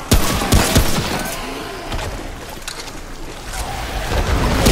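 Rifle gunfire in the video game Remnant From the Ashes: loud, close bursts of rapid shots, the heaviest cracks early, over a constant roar of noise.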